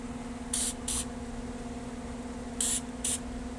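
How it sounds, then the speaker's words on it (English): Fluid Film aerosol sprays onto a motor shaft in four short hissing bursts, in two pairs, close by over a low steady hum. "Let's get our fluid film right here. Coat the motor shaft."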